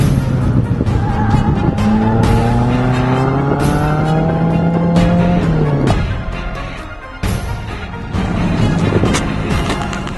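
A race car lapping a track, its loud engine climbing in pitch through the gears, then dropping off around six seconds before revving again, with tire squeal and no talk.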